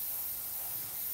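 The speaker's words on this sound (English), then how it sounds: "hold your airbrush at a distance and then just very evenly" An airbrush sprays varnish evenly over a scale model kit, giving a steady, soft, close hiss with no talking.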